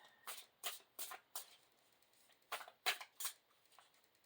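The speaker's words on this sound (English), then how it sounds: "I'm going to shuffle them like that one more time." Stiff playing cards being riffled and shuffled in a series of crisp, fluttering bursts, close up, with short pauses between shuffles.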